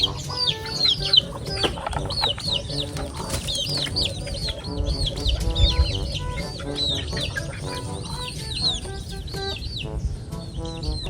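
Native hens cluck and chatter continuously close by in a backyard, their repeated calls overlapping at a steady level with other farm birds joining in.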